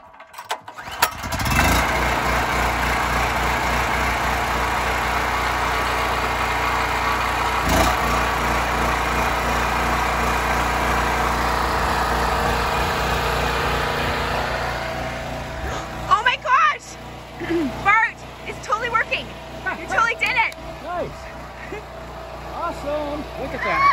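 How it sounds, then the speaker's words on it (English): A portable generator pulls into life and runs at a steady, loud drone for about fifteen seconds to power a newly installed well pump at an off-grid outdoor site, then fades as voices and scattered clatter take over. "we're going to fire up the generator and plug it in and see if anything comes out"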